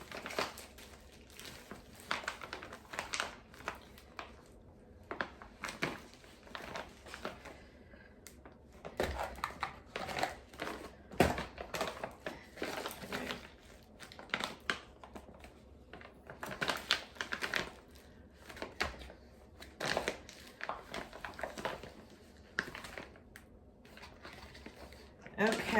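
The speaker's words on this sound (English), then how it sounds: "And then I'm going to go ahead and seal the Ziploc." Ziploc zipper bags of chili meals for jar and Mylar storage are pressed shut one after another, a dense run of close, crisp clicking and plastic snapping that goes on steadily, with some speech mixed in.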